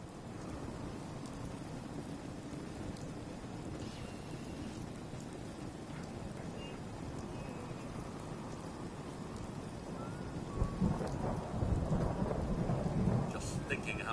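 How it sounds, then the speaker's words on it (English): Steady rain with rumbling thunder in the video game Fallout 4, heavy rainfall filling the whole stretch and a louder thunder roll swelling near the end. "Just thinking how wonderful it'd be to get out of this infernal rain"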